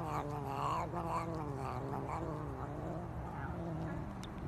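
A cat caterwauls and growls in long, wavering, drawn-out yowls that rise and fall for several seconds, loud and close over a steady low background hum.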